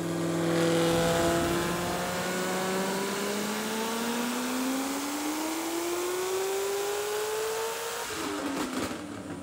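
A 1100-horsepower Corvette ZR1 engine pulling hard to redline on a dyno, a loud, rising roar climbing smoothly for several seconds before the revs drop off sharply near the end.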